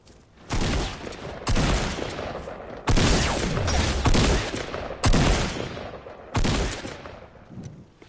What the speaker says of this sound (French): je tire parce qu'il y a un mec